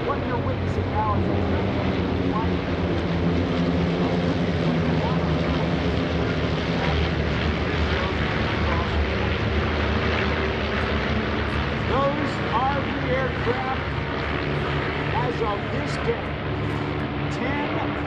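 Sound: Van's RV aircraft formation flying overhead at AirVenture

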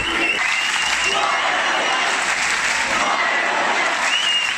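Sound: students cheering in school corridors

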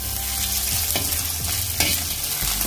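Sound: grated ginger frying and being stirred for rajma

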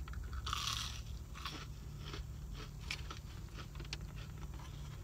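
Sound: crunchy churro being bitten and chewed

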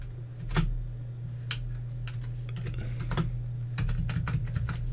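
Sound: typing on a computer keyboard in AutoCAD

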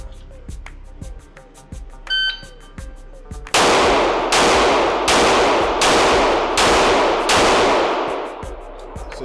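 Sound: six pistol gunshots during a Bill Drill

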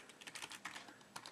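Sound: typing a username on a computer keyboard

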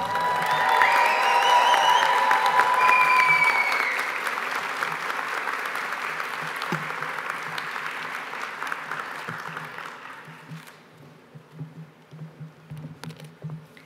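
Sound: applause

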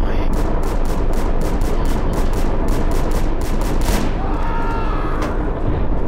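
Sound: gunfire in a video game

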